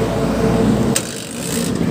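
A Honda TMX 125 motorcycle kick-started and running: a steady, close, low engine rumble with a brief scraping knock partway through.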